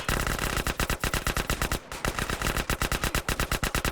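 Rapid automatic gunfire from GTA San Andreas, two loud close bursts of evenly spaced shots separated by a brief pause, with no talking.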